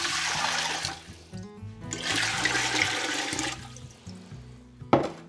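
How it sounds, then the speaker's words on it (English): Water pouring in a steady, loud rush into a pot to make pickle brine for dill beans and cucumbers, with a short break and a final splash near the end. "I'm gonna start by adding 3 quarts of water"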